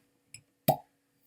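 A cork pops from a freshly opened bottle of Arran Sherry Cask single malt whisky. A small soft squeak comes first, then one short, close hollow pop against a quiet room.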